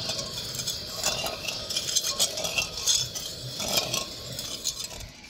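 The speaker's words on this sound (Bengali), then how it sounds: "এবার আমি চিনিটাকে ভালোভাবে গলিয়ে নেব।" A spoon scraping and clinking against a pan as sugar is stirred and melted for rice-flour pitha, a close, steady run of metallic rattles with no talk.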